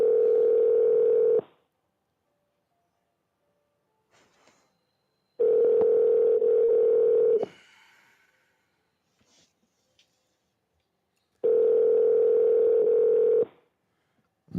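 A telephone call rings out in three long, loud, identical tones separated by silent gaps before reaching voicemail, with faint clicks between rings.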